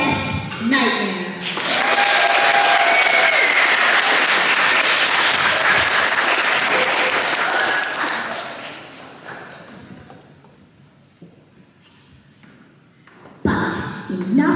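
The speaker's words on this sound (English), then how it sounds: "Let's give another round of applause for your best nightmare." An audience at a radio musical drama breaks into a loud, full round of applause that swells, holds for several seconds, then fades to scattered claps before a voice cuts in at the end.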